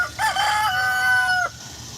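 A rooster crows once in a garden, a long clear drawn-out call lasting over a second, with a steady low background hum and no talking.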